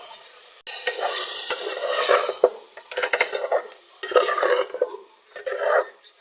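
Chicken spaghetti being stir-fried in a pan with soy sauce and vinegar, with steady sizzling, scraping and clattering of a utensil against the pan in busy bursts, close and fairly loud, no talking.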